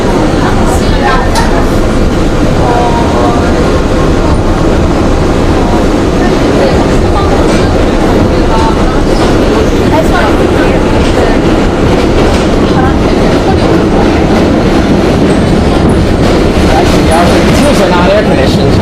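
A Budd R32 C train rumbles loudly along the 8th Avenue subway line, with a continuous roar and rhythmic clatter of wheels on track from inside the car; faint voices are mixed into the din.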